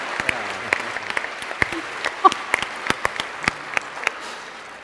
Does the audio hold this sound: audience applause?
yes